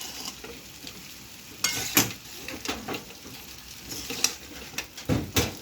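Spices tempering in a small pan as they are stirred, giving soft, uneven crackling sizzle with several sharper spattering bursts over a low, steady kitchen background.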